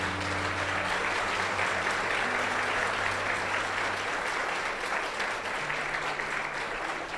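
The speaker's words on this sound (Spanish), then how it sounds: "Dale un aplauso al Señor por eso." A church congregation applauds during a Spanish-language sermon, a dense and steady round of clapping that fills the room evenly and stays loud throughout without any voices over it.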